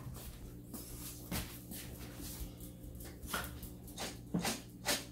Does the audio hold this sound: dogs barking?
yes